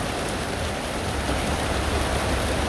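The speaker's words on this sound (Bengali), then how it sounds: "বৃষ্টি হচ্ছে।" Steady, dense rain pours down, a continuous hiss with no breaks or voices.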